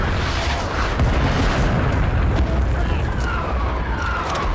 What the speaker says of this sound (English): The VC got artillery coming in.